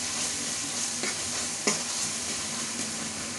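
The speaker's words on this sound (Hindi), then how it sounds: "लेकिन थोड़ा और भून लेते हैं।" Masala for pav bhaji frying in oil in a pan, a steady close sizzle with a couple of sharp scrapes of the spoon as it is stirred, no voices.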